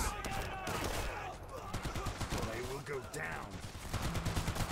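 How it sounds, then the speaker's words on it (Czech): Rapid bursts of gunfire in the video game War Mongrels crackle over a busy, dense mix of game sounds, with a voice briefly talking underneath. "Tady si aspoň dáme trošku střelbu"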